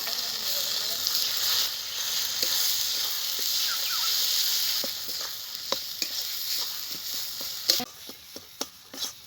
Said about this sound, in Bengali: এখন এই জল মেরে রাখা কচুটা দিয়ে দেবো।